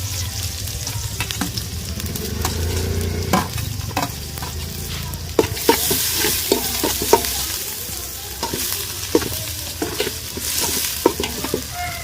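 Small shallots sautéing in hot coconut oil, a steady close sizzle with frequent sharp scrapes and taps of a spoon stirring against the pan.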